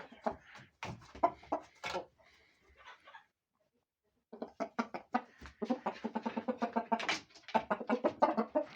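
A fast rooster being trained, crowing and clucking in bursts close by, mixed with voices and a pause of near silence partway through.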